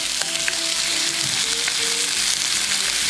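Boneless skinless chicken thighs sear in a hot pan, giving a continuous close sizzle and crackle with scattered pops and no voices.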